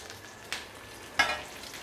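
Ginger, green chillies and curry leaves sauté in a pan for a coriander chutney, with a low steady sizzle and two brief louder hissing bursts as the pan is stirred.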